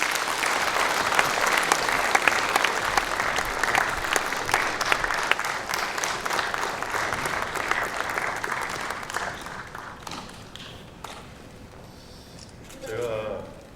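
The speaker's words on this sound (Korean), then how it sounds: "모두 박수 부탁드립니다." An audience at a book launch applauds loudly and continuously, the clapping thinning out toward the end as a voice begins speaking.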